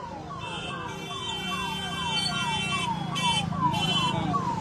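An ambulance siren wails in repeated falling sweeps at moderate distance, growing slightly louder over a bed of traffic rumble, with no talk.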